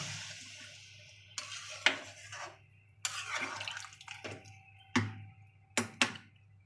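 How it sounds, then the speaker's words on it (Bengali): Water poured into a pot of chicken kosha curry to boil the potatoes, heard as a few separate splashing pours and trickles against a steady low hum, with no talking. "এবার এর মধ্যে আমরা আলুটা সিদ্ধ হওয়ার জন্য জল দিয়ে দিচ্ছি"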